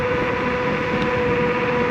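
A Yume Y10 dual-motor electric scooter pulls away under hard acceleration, a steady loud motor whine with a sustained high tone and broadband wind and road rush, continuous and close throughout.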